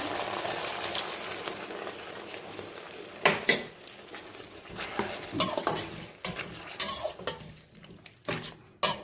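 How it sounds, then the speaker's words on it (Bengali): Water tipped from a bowl into a pan of nearly finished chilli chicken, with a steady sizzling hiss broken by sharp clinks and scrapes of utensils against the pan. "সেই বাটিটা দিয়ে জল দিয়ে দিচ্ছি"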